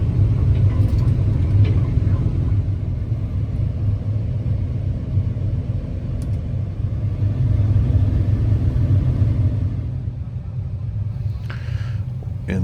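A large haul truck's diesel engine idles steadily while being loaded with material, a loud continuous low rumble throughout with slight swells, up close.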